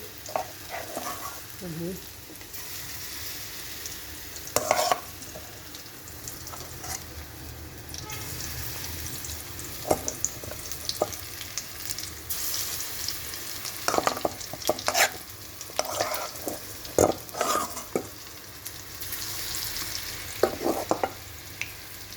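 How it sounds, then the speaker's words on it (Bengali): Onion fritters (piyaji) frying in hot oil give a steady close sizzle across the whole stretch, with occasional louder scrapes and stirring knocks breaking through at irregular moments. "পেঁয়াজি ভাজতেছি"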